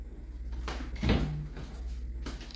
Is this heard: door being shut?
yes